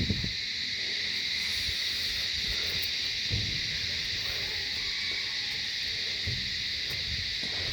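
Bird calls in the forested grounds of a bird park, faint and distant chirps and hoots over a constant high insect-like drone, with scattered soft rustles and no talking.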